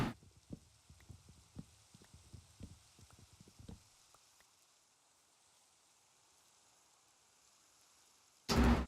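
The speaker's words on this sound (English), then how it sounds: "Oh, it's raining now." Rain falling in Minecraft makes a soft, steady hiss throughout, with scattered light thuds in the first few seconds and a sudden loud burst at the very end.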